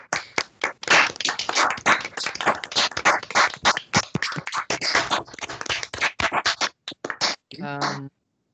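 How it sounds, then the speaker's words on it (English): Sparse, uneven clapping from a small group applauding a speaker after an online academic talk, sharp individual claps in quick irregular bursts close to the microphone, ending with a short notification-like tone. "a round of applause for our speaker"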